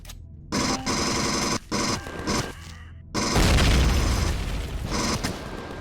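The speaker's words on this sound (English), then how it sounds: "Why is there another explosion?" Blasts in the space survival game Empyrion Galactic Survival, with bursts of mechanical noise cut by silent gaps, then a loud, deep, rumbling explosion that sustains and slowly fades, with no voices.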